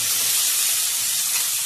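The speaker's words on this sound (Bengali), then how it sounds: "তেলটা গরম হয়ে গেছে, এবারে দিয়ে দিলাম অল্প করে পেঁয়াজ।" Onion drops into hot mustard oil for a mutton curry and sizzles in a loud, steady hiss that stays even and close, with no voices.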